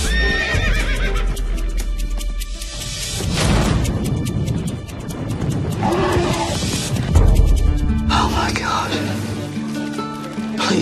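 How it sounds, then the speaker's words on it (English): A racehorse gallops with pounding hoofbeats and lets out loud neighs over a dramatic orchestral score, with a brief crash and voices mixed into the dense, busy soundtrack. "That horse is unstoppable."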